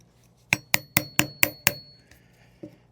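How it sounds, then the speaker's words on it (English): A hammer drives a chisel into a wooden slab around an embedded nail, giving six sharp, evenly spaced metallic strikes up close, then a quieter single tap after a pause. "So first you gotta use a chisel, kind of get around"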